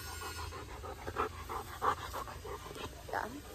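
A dog pants rapidly and rhythmically close up, a quick train of breathy huffs with a couple of louder gasps, no voices heard.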